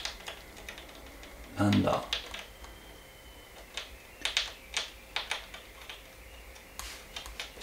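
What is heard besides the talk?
rustling behind the wall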